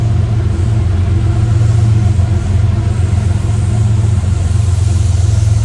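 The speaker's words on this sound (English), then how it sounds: "cars are passing by." Steady low rumble of road traffic as cars pass by continuously, a loud broadband engine and tyre drone with no voices.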